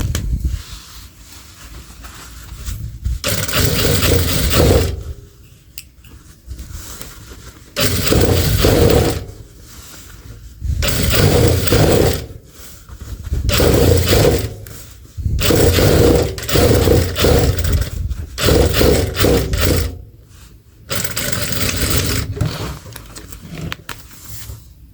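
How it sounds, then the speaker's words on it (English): A sewing machine stitches the inner seam of jeans during a knee-to-hem taper, running in repeated bursts of a few seconds each with short pauses between them, close and fairly loud. "Stitching the inner seam smoothly."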